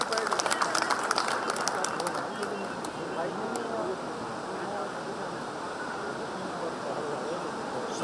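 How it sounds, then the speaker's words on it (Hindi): An audience at the International Yadav Business Summit welcomes Hansraj Ahir with applause, loud and crisp at first, then settling into a softer, washy wash of clapping that carries on steadily. "एक बार जोरदार तालियों से इन्हें आमंत्रित करता हूं"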